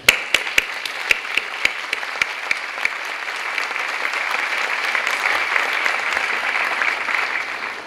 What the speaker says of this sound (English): Let us applaud your faculty and your family members.